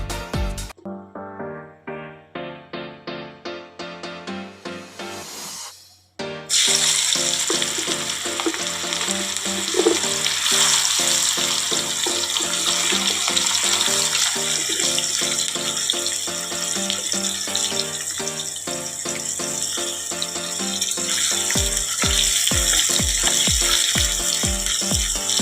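Chopped onion hits hot oil already used for frying potatoes, setting off a loud, steady sizzle that fills the pan and holds strong throughout, with a few clinks and taps of utensils near the start and end.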